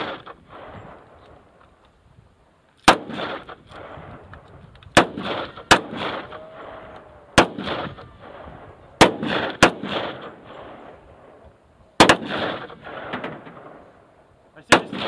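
Gunshots at a Salt Lake City shooting gallery: about eight sharp, loud reports spaced irregularly over the span, with a voice murmuring faintly between them.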